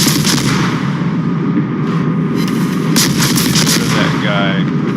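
Naval gunfire from a Benson destroyer in the World of Warships video game, loud repeated booming shots layered over constant battle rumble and game effects, with several sharp blasts in quick succession.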